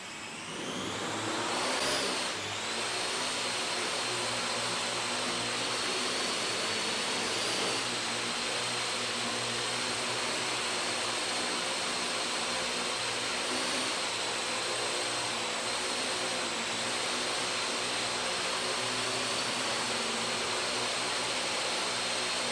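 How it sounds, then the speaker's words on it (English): A gesture-controlled quadcopter flies nearby, its rotors producing a loud, steady high-pitched buzzing whir that holds nearly constant throughout, rising briefly near the start. "my gestures in real time getting inputted to the system via this and the copter flying along"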